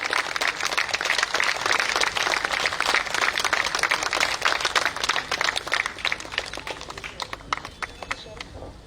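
An audience at a civil society gathering claps to welcome a guest, a dense round of applause that thins into scattered claps near the end, with talk beneath it.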